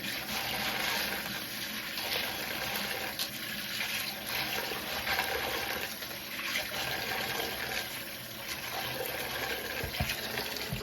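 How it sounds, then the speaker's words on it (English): Warm tap water runs into a container for washing black-eyed peas, a steady, full rushing gush that continues unbroken and fairly loud throughout, with no talking. "Let me get this filled up with some water here."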